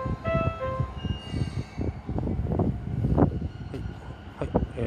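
A Keihin-Tohoku Line local train bound for Omiya pulls out of a station platform near Oimachi, with rumbling wheels, rising motor whine and rattling carriages, fairly close and steady throughout.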